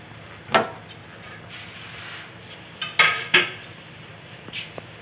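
Washed onions and green chillies tip into a cooking pot while beef nalli is being prepared, giving a few sharp clattering knocks against the metal, one early and a cluster later, with quiet kitchen background between.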